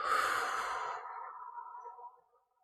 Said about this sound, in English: Take a nice deep inhale through your nose and exhale through your mouth.